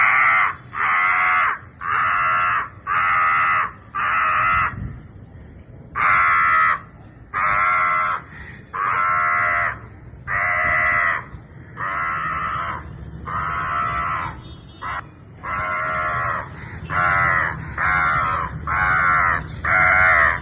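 Several people mimic crows with loud, repeated cawing bursts in quick rhythmic runs, one after another, the chorus filling the space with barely any pause.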